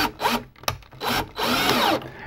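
A number 6 screw driven with a power drill into a plastic soffit vent bracket, several short whirring bursts with a brief click between them, close and fairly loud.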